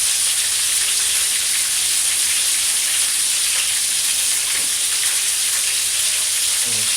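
Chicken parmesan fries in a pan with a steady, loud, hissing sizzle that holds unbroken throughout, dense and close, with a few faint clinks underneath.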